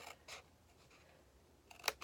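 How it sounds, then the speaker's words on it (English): Scissors snip through card stock with a few short, quiet cuts and a sharper crisp snip near the end, alone in a quiet room. "we're going to use our scissors, and we're going to start by cutting up to the second score line"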